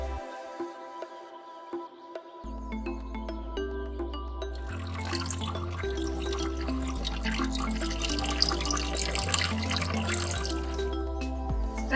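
Running tap water rinses a microscope slide during a lab staining procedure, a steady close splashing and trickling stream that swells and continues for several seconds over a low background hum.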